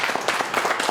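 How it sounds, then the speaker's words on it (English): A short burst of applause for an interviewee at a local judicial candidate forum, with several overlapping claps rising and falling through the room. "everybody round of applause for Sean Connell"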